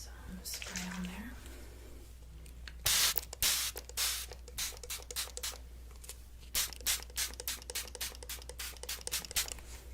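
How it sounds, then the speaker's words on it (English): Hairspray sprayed onto styled hair in a close, quiet setting, several short bursts of hissing spray of varying length in quick succession, with soft handling sounds and a quiet voice speaking in between. "let's go ahead and get some spray on there"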